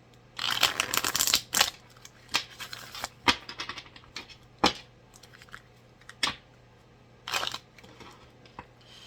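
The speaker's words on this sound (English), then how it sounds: "Let me shuffle these cards up some more." Tarot cards are shuffled by hand in quick, crisp bursts of riffling and slapping, separated by short pauses, close and fairly quiet with no talking.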